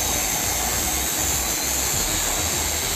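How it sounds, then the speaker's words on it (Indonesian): Cut-off saw set for a 45-degree angled cut while building a shoe-rack bench, a loud, steady, dense high-pitched grinding roar that runs unbroken close by with no talk. "Sebelumnya kita setting dulu untuk mesin cut off-nya untuk pemotongan miring 45 derajat."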